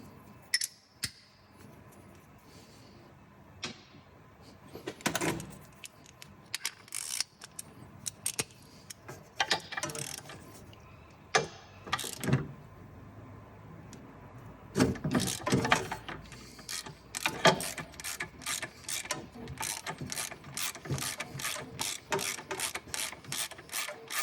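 Ratchet wrench with a 17 mm socket working on a Ferrari 308 engine during a timing belt job, close sharp clicking in irregular bursts that settles into a fast, steady run of ratchet clicks.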